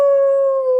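A sustained, loud, wavering wolf-like howl from a group of people imitating wolves, a single smooth long note that slowly falls in pitch and then stops.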